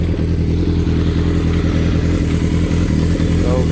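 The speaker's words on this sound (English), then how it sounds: "So there's the Delkevic exhaust." A 1977 Kawasaki KZ650 motorcycle fitted with a Delkevic ceramic exhaust runs steadily nearby, a loud, even low throb from the pipes that holds constant without revving.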